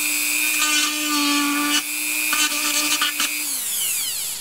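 Power tool blade cutting a plastic milk jug, a close, high whining drone with shifting pitch as the blade bites and drifts through the plastic.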